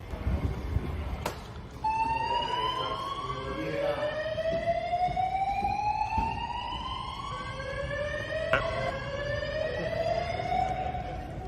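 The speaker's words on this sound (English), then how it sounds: "So apparently they had a little fire alarm" An electronic fire alarm siren wails in repeated rising sweeps, loud and steady and heard alone with no one talking over it, after one short sharp knock near the start.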